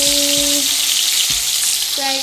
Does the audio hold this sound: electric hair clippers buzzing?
no